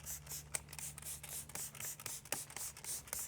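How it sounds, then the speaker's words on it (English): Soap and water sprayed onto the panel of a Tesla Model S in close repeated hissy bursts, with light rubbing and handling noises between sprays. "And spray our soap and water."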